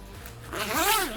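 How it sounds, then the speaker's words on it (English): A zipper pulled open on the canvas bimini top of a 2024 Sunchaser Geneva Cruise 24 SB DH pontoon boat, one quick close rasping zip rising in pitch and then sweeping back down. "You're gonna unlock your bimini clip of your zippers."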